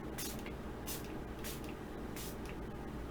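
Bursts of fruit spray hiss out from a sprayer in several short pulses over a steady low rumble, fairly loud and close.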